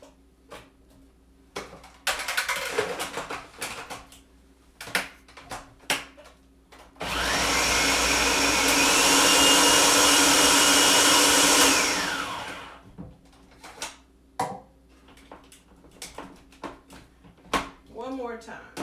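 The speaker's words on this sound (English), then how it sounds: "let me show you why I use a food processor" Food processor chopping onions and green peppers for salmon chowder, a loud steady motor whir running about five seconds and cutting off abruptly, framed by clatter and a person talking before and after.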